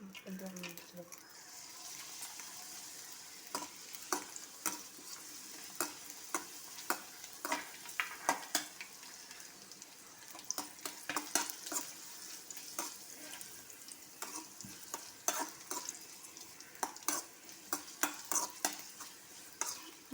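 Quiet crackling sizzle of pappadam frying in hot oil over low heat, with scattered pops and a soft stirring throughout.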